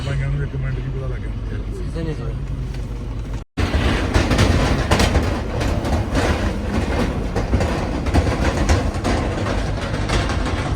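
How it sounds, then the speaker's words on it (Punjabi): A train rolls over a rattling bridge on a journey toward Gobind Ghat, heavy rhythmic clatter of wheels and wagons after a brief break, loud and close, with a voice talking over the rumble. "ਟ੍ਰੇਨ ਨੂੰ ਖੜਕਾ ਕਰਦਾ ਪੁਲ ਜਿਆਦਾ ਜਿਵੇਂ ਟ੍ਰੇਨ ਟੱਪਦੀ ਹੁੰਦੀ ਹੈ"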